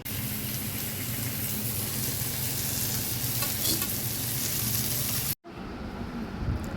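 Rice fry with onion and garlic crackles in a pan in a steady, dense sizzle with faint scraping of stirring, close up, then cuts abruptly to a quieter, duller stretch near the end.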